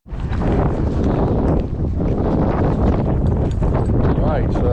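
Strong wind blows on the Fylde coast at a car boot sale, a loud and steady roar buffeting the microphone from start to finish.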